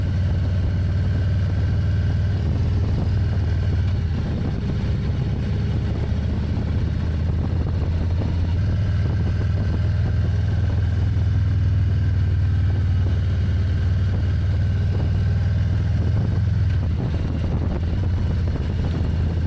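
A Harley motorcycle rides on a wet road in the rain, its engine a steady, deep, close rumble with some wind and road hiss layered over it, holding throughout with a slight surge near the end.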